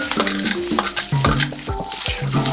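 Chopped onions are sautéed in a pan for a banana flower gravy, with a light sizzle under repeated close scraping stirs of a spoon against the pan, a faint tonal backing beneath, no talk.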